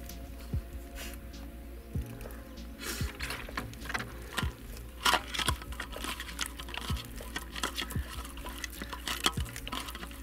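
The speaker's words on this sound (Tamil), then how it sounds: "நல்லா இஞ்சி பூண்டு அந்த மசால் பொடியெலாம் நல்லா கலக்கிட்டார்." Ginger garlic paste and spice powder being mixed with water to coat tilapia, giving repeated wet, squelchy scraping strokes with a steady clicking rhythm, close and fairly quiet.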